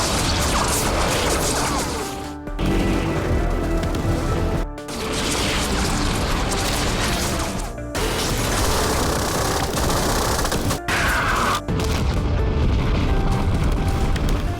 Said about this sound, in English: The base was engulfed in an explosion before their eyes in an instant.